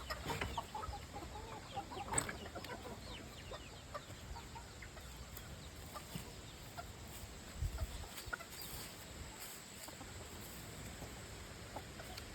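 Chickens clucking inside a silver Spitalwin coop on a homestead, soft and somewhat distant, with scattered low clucks and calls over faint background noise.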